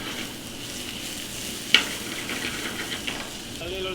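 Baby tomatoes frying in olive oil with garlic and onions, a soft, steady sizzle close by, punctuated by a sharp clink of a utensil and a couple of lighter taps as the pan is stirred.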